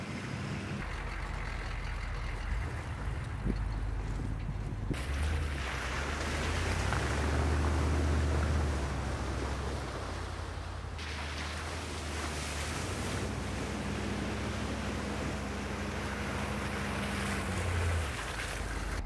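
A Hummer H1 drives off-road with a low, steady engine rumble that rises and falls as it climbs, mixed with wind noise and crunching terrain, and no talk.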